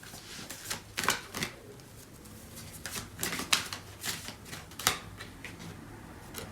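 Tarot cards are shuffled and drawn up close in quick, crisp riffles and flicks, coming in irregular bursts across the stretch.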